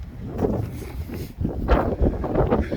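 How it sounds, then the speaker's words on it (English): Gusty wind buffets the microphone in uneven bursts, a low roaring rush that rises and falls with no talking. "It's getting pretty windy."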